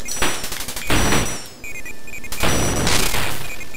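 Bursts of rapid gunfire crackle from a Front Line arcade shooting game, coming in separate loud volleys with short gaps between them and electronic game tones underneath.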